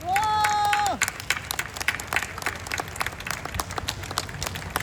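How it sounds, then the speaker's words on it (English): After a brief held musical tone, scattered applause breaks out from an audience at a commemoration of Vietnamese refugees, uneven and moderately loud, with some crowd noise mixed in. "Let's give them a round of applause."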